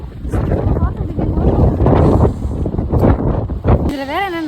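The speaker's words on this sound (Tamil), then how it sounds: "இந்த காற்று வேற செம்ம காற்று அடிக்குது" Strong wind outdoors in the UK buffets the microphone in loud, gusty bursts of low roaring rumble, with a person talking over it throughout.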